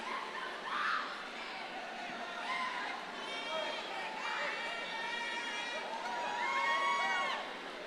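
Crowd at a 155th annual commencement ceremony cheers and applauds the graduates, a continuous wash of clapping, shouts and whoops from a large, somewhat distant audience with chatter mixed in.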